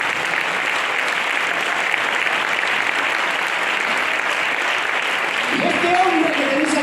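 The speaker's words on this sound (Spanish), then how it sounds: "Un aplauso fuerte, por favor." Loud, sustained applause from a church audience fills the space steadily and evenly, with a voice starting to speak over it near the end.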